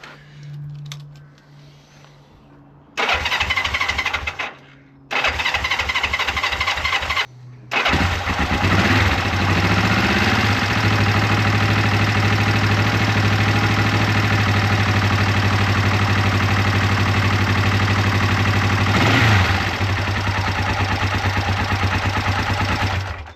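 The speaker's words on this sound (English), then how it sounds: "I'm going to give it a go with the kill switch in the off position just to see how it cranks, and then I'll try and start it from there." A Honda CL450 motorcycle with a repaired starter clutch cranks in two short bursts, then catches and fires into a loud, steady running engine that holds close and continuous to the end.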